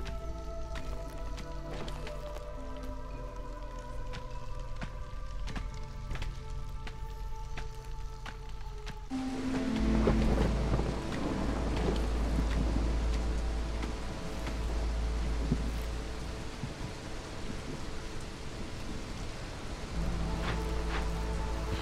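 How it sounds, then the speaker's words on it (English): Heavy rain sweeps into a storm in the settlement-building game Against the Storm, a dense roaring wash that swells suddenly after a calmer stretch of game music and layered ambience, with low rumbling undertones beneath it. "And here comes the storm."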